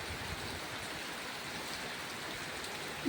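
Heavy monsoon rain pours down outdoors as one continuous, even hiss of water striking the ground, with no distinct thunderclaps standing out.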